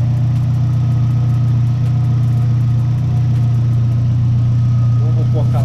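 A Ford Zetec 1.8 car engine idling steadily with a constant low hum and faint ticking, running loud and close throughout with no change in pace.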